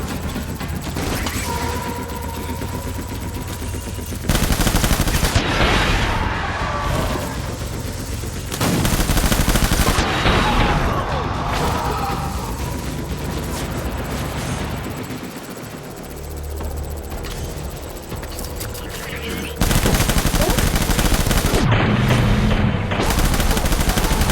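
Sustained gunfire and explosive bursts in the video game Death Stranding Director's Cut, loud and dense throughout, with rotor-like rumble and brief shouted commands over the combat.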